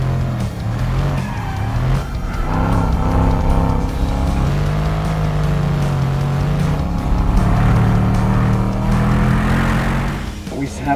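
A 600-plus horsepower Mercedes-AMG drifts on ice with a loud, sustained engine roar and rising revs, holding near and steady for the whole stretch while faint talk sits beneath it.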